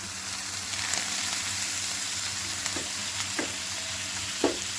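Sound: milk poured onto bread toasting in a pan, sizzling

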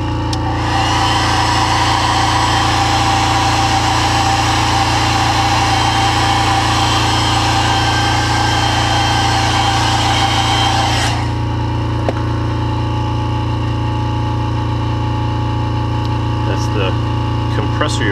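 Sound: air compressor running, filling its tank

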